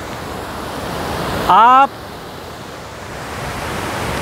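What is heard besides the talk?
strong water flow at Nanak Sagar dam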